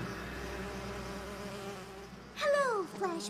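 Cartoon Flash Bees buzz in a My Little Pony episode, a low droning hum that swells into a brief louder buzzing burst with sliding pitch near the end, with a faint voice beneath.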